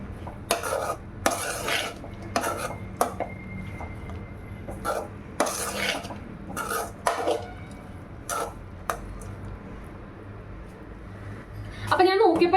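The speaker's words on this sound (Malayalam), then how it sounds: "ഇതപ്പം ഞാൻ ഇളക്കുകയാണ്" Avil (beaten rice) upma is stirred in a pan, with repeated scraping and clattering strokes of a spoon against the pan coming in uneven bursts, close and fairly loud, with quieter pauses between.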